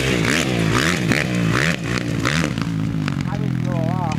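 A dirt bike engine revs and drones steadily up close, its pitch rising and falling in repeated pulls, with someone talking over the motor.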